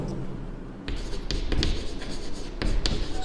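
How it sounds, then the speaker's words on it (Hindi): Pen or pencil writing on paper during a Class 10 maths lesson on surface area and volume, a steady close scratching with short bursts of strokes, no talk. "मैं लिखता हूँ"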